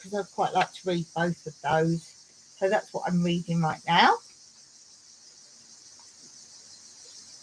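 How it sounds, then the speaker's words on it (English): Cicadas near a seaside property keep up a steady high-pitched buzzing drone in the background while a person talks close by, and the drone carries on alone after the talking stops. "you'll hear the cicadas that way"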